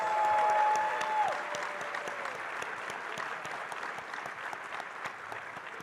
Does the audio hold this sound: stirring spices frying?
no